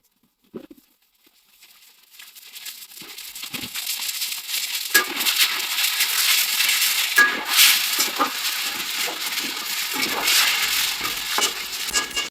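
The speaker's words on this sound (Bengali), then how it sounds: "আলুগুলো ভেজে নিচ্ছি।" Potatoes fry in a pan, a steady soft sizzle building after a quiet start and continuing close and unbroken, with a few faint stirring scrapes.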